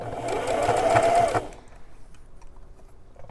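A sewing machine hemming a pair of jeans runs in a steady close whir for about a second and a half, then stops, leaving quiet room tone.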